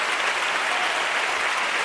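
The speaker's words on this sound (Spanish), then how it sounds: "el público que aplaude sin duda este segundo paso doble de la chirigota" An audience at the Cádiz carnival contest applauds a chirigota's pasodoble, a dense, loud, even wall of clapping that fills the hall without pause.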